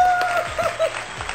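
A short burst of applause sound effect: a quick patter of claps, fairly close, lasting just over a second.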